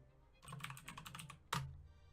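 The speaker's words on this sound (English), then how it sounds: "So we're gonna type in quick save." Quiet, rapid keystrokes on a computer keyboard enter a save command in Dwarf Fortress, a quick burst of close taps ending with one firmer key press.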